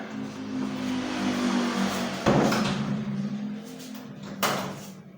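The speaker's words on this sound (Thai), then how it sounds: "ปิดประตู แล้วก็ล็อก" A household door with an old doorknob being replaced is shut with a sharp close, followed moments later by a second click as the knob lock is turned; close, over a steady background hum, no talking.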